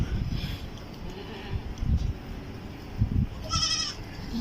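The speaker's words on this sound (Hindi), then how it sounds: "बकरी देखें आप" A goat bleats once at a livestock market in Karachi, a short wavering cry cutting through a busy low background of crowd murmur and shuffling.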